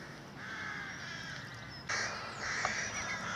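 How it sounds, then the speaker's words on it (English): Several rooks at a nesting site caw harshly from a distance, overlapping calls rising and falling with steady background noise. "Rooks are very noisy."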